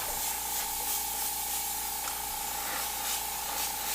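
Continuous airbrush hiss spraying paint through a stencil, a steady close airy spray with a constant compressor tone underneath, lasting the whole stretch without pauses.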